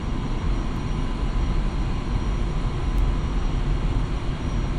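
A Su-25T attack jet taxis in a flight simulator game, its engine giving a loud, steady, unbroken drone that stays the same throughout, with no talking.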